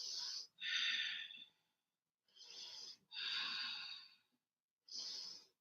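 Slow, audible breathing during a yoga hip stretch, close and fairly quiet: three long, airy inhale and exhale cycles separated by brief pauses, with nothing else heard.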